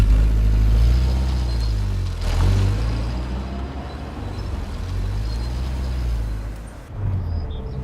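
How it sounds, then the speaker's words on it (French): Peugeot 504 driven on the road, its engine a steady low rumble heard from inside the cabin, with a brief swell in the middle and a dip near the end. "Donc nous voici au volant de la Peugeot 504"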